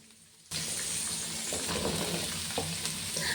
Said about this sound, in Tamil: இதெல்லாம் போட்டு எண்ணெயில் நல்லா வணக்கி எடுத்துக்கலாங்க